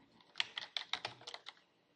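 Quick clicks of typing on a computer keyboard, about a dozen keystrokes in an uneven rhythm, close and fairly quiet, with no voices.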